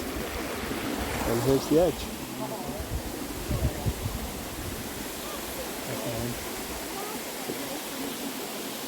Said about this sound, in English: So there's the river running down.